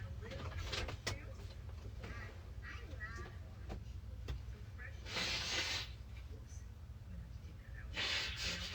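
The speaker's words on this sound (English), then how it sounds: "I apologize for this sniffling." A person sniffles through the nose two times in a quiet room, with short, sharp breathy bursts about three seconds apart. Faint background hum and a few small clicks sit between them.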